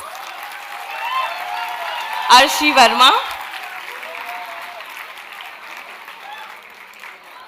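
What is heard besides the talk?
applause for graduating students at convocation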